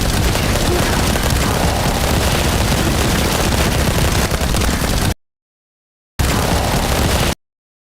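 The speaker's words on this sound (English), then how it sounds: "Explosion is pretty badass." Explosive weapon fire in the video game The First Descendant, a loud dense barrage of blasts and rattling gunfire that pours out continuously, breaks off to silence and then bursts back briefly.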